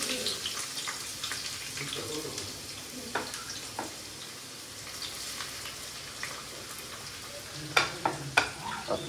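Onions frying in a pan for pepper garlic chicken, a soft continuous sizzle with scattered crackles and a few clinks of stirring near the end.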